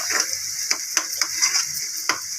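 Chopped onions sizzle in hot oil in a pan while being stirred for a spinach and onion curry, with steady frying hiss broken by several sharp scraping stirs, close and alone.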